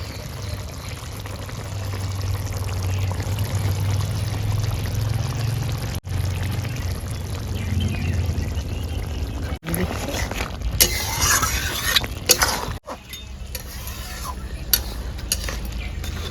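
Bengali-style crab curry poured from a pan with coriander leaves, giving a steady, continuous pouring and scraping sound with a few clinks of metal utensils near the end.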